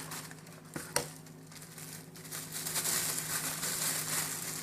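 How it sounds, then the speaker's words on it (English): A thin plastic bag crinkles and rustles close by over a few seconds, with a couple of sharper crackles early on and then a denser, continuous crumpling. "I get a right plastic bag"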